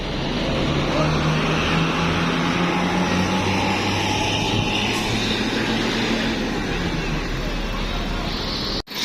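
A bus pulls out of Poris Plawad terminal bound for West Sumatra, with its steady engine drone close by for several seconds, then a sharp cut at the end. Voices are faint underneath.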